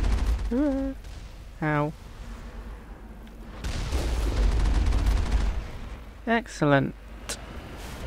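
Missiles fire and explode in Mass Effect as a rumbling, sustained blast of booms in the middle, between short spoken exclamations before and after.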